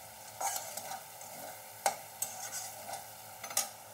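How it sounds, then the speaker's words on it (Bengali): Spiced masala and potato pieces sizzle quietly in a pan while a spoon stirs them in a few distinct scrapes and clinks over a soft, steady frying hiss. "আলু কটা দিয়ে ভালো করে এর সঙ্গে কষিয়ে নেব।"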